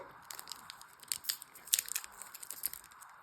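A Cino chocolate bar's wrapper is torn open in a quick series of crisp, close crinkles and tearing rips, irregular and fairly quiet, with no talking.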